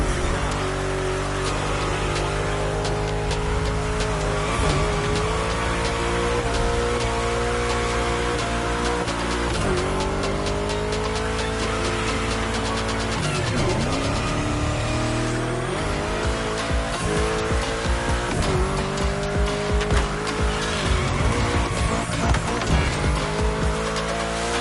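Racing-game cars roar continuously with engine pitch rising and falling through bends, tires squealing repeatedly on corners, loud and steady throughout.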